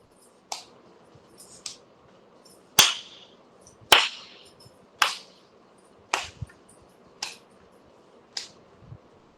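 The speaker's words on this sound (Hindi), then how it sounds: "अभी नीचे ताली बजेगी" Hands clapping together in unison during a yoga session: about nine sharp, separate claps spaced roughly a second apart over a low steady hum, with no talking.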